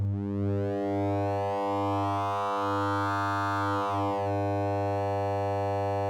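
Triangle-wave phase modulation tone in Pure Data as its modulation index is swept: a sustained buzzy harmonic drone whose brightness swells up and then falls back, with faint periodic dips, heard alone.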